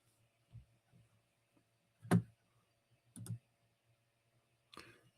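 A few sparse clicks from a computer keyboard being typed on, quiet and close, in short separated bursts with near silence between.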